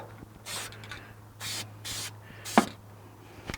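Four short bursts from a spray can aimed into the engine bay of a 280z, each a sharp hiss about half a second long, with a steady low hum underneath and a small clatter near the end.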